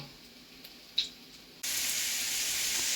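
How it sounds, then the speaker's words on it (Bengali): Paneer frying in a karahi, a steady loud sizzling hiss that jumps up sharply partway through and then holds, with a brief clink just before. "কিছু পনির ভাজতে বসিয়েছি আর কিছু পনির ভাজা হয়ে গেছে"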